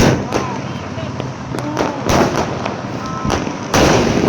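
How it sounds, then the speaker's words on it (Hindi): Diwali firecrackers crack and burst in quick irregular succession, several loud sharp bangs nearby over a constant hiss of distant popping and faint voices. "देखो पीछे कैसे बैकग्राउंड में पटाखे जल रहे।"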